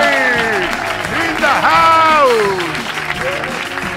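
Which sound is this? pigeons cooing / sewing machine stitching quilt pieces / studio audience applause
studio audience applause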